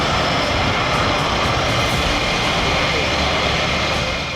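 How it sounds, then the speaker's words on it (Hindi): Roar of a sixth-generation fighter jet engine, a loud, steady broadband rush that fills the whole stretch without letup, close and powerful. "और वो है 6th जनरेशन फाइटर, यानी छठी पीढ़ी का लड़ाकू विमान, द जायंट किलर"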